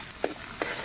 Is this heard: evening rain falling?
no